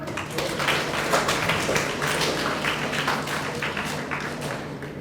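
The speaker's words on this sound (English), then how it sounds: "Can you clap for him?" An audience claps for a student at a career guidance program, a dense, steady patter of many hands sustained throughout at moderate loudness with no talking.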